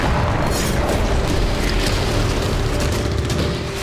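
Explosions shake Belgorod during the Russia-Ukraine war, heard as loud, dense, continuous rumbling booms with crackling bursts that stay heavy and unbroken for several seconds.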